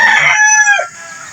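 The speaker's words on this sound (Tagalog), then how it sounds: "meron din po kayo makikita mga manok" A rooster crows once, loud and close, in a single drawn-out call that trails off into quiet outdoor background near chickens and water buffalo on an overcast weekend.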